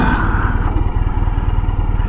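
Ural Retro sidecar motorcycle riding through town during a wheelie, its engine giving a steady, close, rumbling drone with a pulsing low-end throb throughout, no talking.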